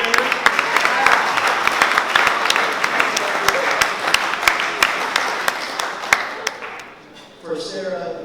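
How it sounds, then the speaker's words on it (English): Wedding guests break into applause, many hands clapping loudly with sharp individual claps standing out, lasting about seven seconds before dying away as a voice resumes speaking. "Sara, can we clap for Sara?"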